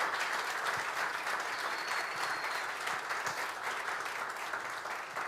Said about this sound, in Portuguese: Podes bater palmas a Deus.